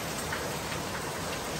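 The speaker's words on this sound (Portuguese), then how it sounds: "Gente, é chuva, viu?" Heavy rain pours down steadily in Guarujá, a dense, continuous hiss of drops on surfaces with no breaks and no voices.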